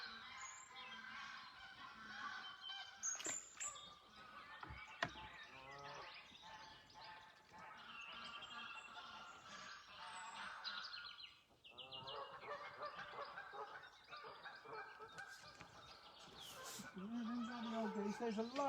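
Greylag geese with a brood of goslings honk and call repeatedly at a moderate distance, the cackling rising and falling with scattered softer bird sounds and outdoor ambience.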